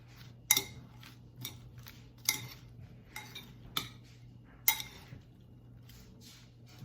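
A utensil stirring vinaigrette through cut endive in a bowl, a series of sharp, quiet clinks and taps at an irregular pace, close and faint with a low hum underneath and no talk.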